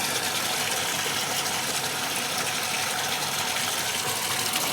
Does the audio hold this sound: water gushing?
yes